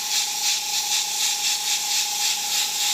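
Airbrush spraying light coats of paint, a steady continuous hiss of air and atomized paint held close and fairly loud for the whole stretch, with no talking.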